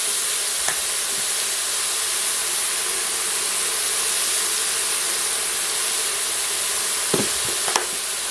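Pork sizzles steadily in a frying pan as mustard is stirred through, a constant close hiss with a couple of faint utensil scrapes near the end; no talking.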